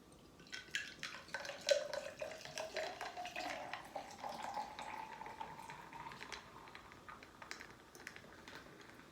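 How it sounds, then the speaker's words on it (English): Modelo beer and michelada mix are poured, a quiet wet splashing and fizzing with small drips and crackles that builds and then settles into a soft steady trickle. "I like pouring aggressive."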